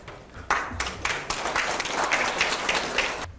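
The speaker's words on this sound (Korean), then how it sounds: "힘찬 박수로 맞이해 주십시오." Audience applause at a 2018 Asia Development Foundation forum in Korea welcoming a speaker to the stage: a sudden burst of clapping that swells into steady, dense applause, with some sharp individual claps standing out.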